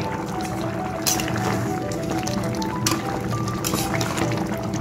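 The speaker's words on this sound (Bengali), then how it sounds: "15 মিনিট মিডিয়াম ফ্লেমে ফুটিয়ে নেওয়ার পরে আমি ঢাকনাটা খুলছি" A pot of potato and pointed-gourd curry with mung dal has simmered for fifteen minutes on a medium flame, and the lid comes off. Steady close bubbling and wet sputtering follow, with a few light clinks of the lid.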